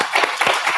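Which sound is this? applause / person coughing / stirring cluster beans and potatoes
applause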